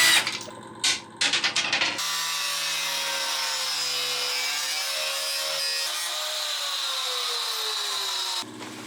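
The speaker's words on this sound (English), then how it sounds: "I'm going to grind off as much as I can, basically cut it out rather than release all that material into the air" A grinder bites into rotten wood on a sailboat deck, starting with a few choppy bursts and then running as one loud, steady high whine that drifts slightly in pitch before cutting off near the end.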